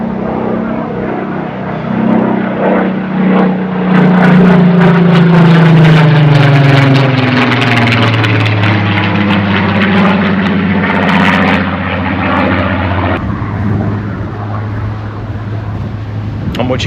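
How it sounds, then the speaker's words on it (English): A Spitfire propeller aircraft passes overhead on a peaceful River Trent walk, its engine drone loud and steady as the pitch falls through the pass and fades away, with a brief voice near the start. "I do believe we've got a Spitfire."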